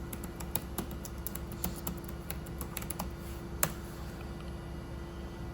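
Fingers type a search on a computer keyboard in quick, uneven bursts of soft key clicks, with one sharper tap near the end, close by in a quiet room with no voices.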